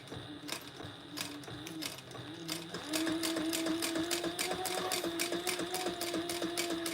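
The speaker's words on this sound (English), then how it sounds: "All right, let's stitch this together. Again, I am back stitching here." A sewing machine back stitching fabric, a fast steady mechanical clatter of needle strokes that picks up pace and grows louder partway through, close up with no talking.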